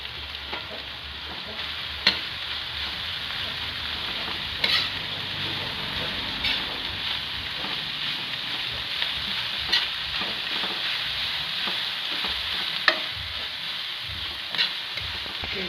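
Chopped banana heart (puso ng saging) sizzles steadily in a frying pan nearby, with a constant hiss of frying and occasional sharp scrapes and clinks as it is stirred, without any talking.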